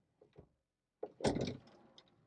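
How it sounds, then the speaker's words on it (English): Deep drawers in a solid wood cabinet aboard a 37-foot luxury bus slide open, with a soft knock and then a louder wooden rumble and clatter up close, fading into a few faint ticks. "And then we've got these 4 deep drawers that open up."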